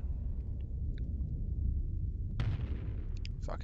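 Weapon fire and explosions in the Starsector space combat game, likely from a Gauss cannon: a low continuous rumble with scattered faint pings, then a sharp loud burst midway followed by more bright metallic hits.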